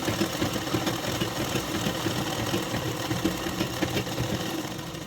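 Sewing machine stitching two pieces of blouse fabric together along a marked 1.5-inch line, a steady close mechanical whir that runs without a break and with no voices.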